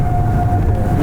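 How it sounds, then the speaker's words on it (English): A tornado siren wails steadily at a distance during a hailstorm, its sustained tone riding over a low, rumbling wind and storm noise for the whole moment. "That's a siren. That's a tornado siren."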